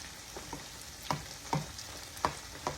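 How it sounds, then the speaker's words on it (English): Pork for sweet and sour pork sizzles in a pot over a hot fire while a metal utensil stirs it, with about six quick scraping strokes over a soft, continuous fry; no talking. "stir it up and kind of make sure your meat is divided"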